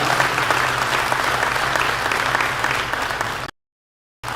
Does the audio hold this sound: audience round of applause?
yes